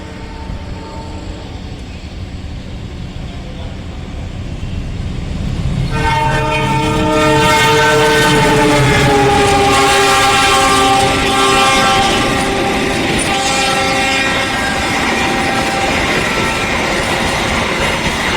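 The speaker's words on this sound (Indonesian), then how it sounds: "kereta api Ranggajati telah melintas langsung di stasiun Sumobito" A passenger train roars straight through a station at close range, its loud drawn-out horn blaring over the rumble and clatter of wheels, building from quiet to a sustained din.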